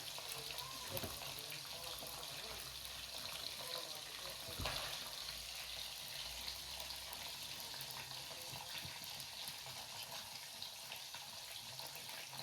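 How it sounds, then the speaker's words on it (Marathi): Paneer frying in a pan for paneer pulao, a steady soft sizzle and crackle that stays even throughout, with a low kitchen hum and faint voices in the background. "इथे पनीर तळताय"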